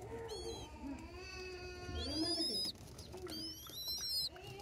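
Soft pigeon coos repeat at close range amid other bird chirps and faint background voices.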